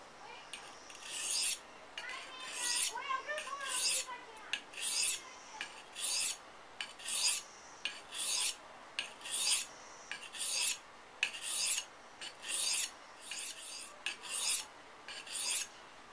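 Knife blade drawn across the fine side of a sharpener in steady, evenly spaced rasping strokes, about twenty short scrapes in a quiet room with no talking.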